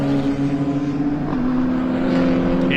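BMW race cars in a BARC 2021 circuit race pass along the track, a steady loud engine drone with sustained harmonic tones shifting slightly in pitch as the cars go by, continuous throughout.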